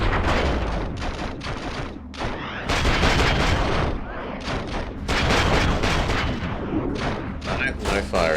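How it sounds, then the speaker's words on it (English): Gunshots ring out in Matrix: Path of Neo on PS2 as loud, sharp bursts and rapid volleys separated by short gaps, with a voice talking over the shooting. "Shoot the fire extinguisher!"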